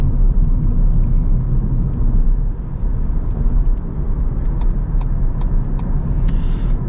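Steady road rumble and tyre roar inside a Renault Zoe electric car as it accelerates to overtake, a continuous loud drone with faint higher ticks and no speech.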